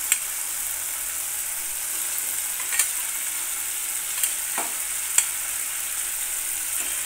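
Fried brinjal pieces sizzle in oil with yogurt in a pan, a steady close hiss broken by a few sharp spatula scrapes and clicks, with no talking.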